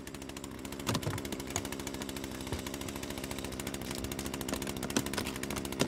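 A chainsaw runs steadily in The Culling video game, a continuous rough buzzing engine drone with repeated sharp bursts throughout, fairly loud and without speech.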